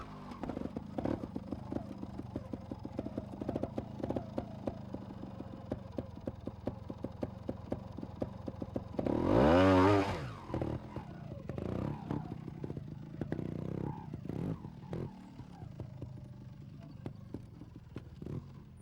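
A trials motorcycle crawls over an obstacle section, engine burbling in low, uneven pulses, then a sharp throttle blip with a quick rising revving burst before it drops back to a ragged idle, fairly close.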